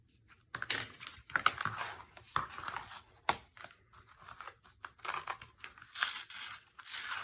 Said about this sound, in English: We're going to cut this straight as we can.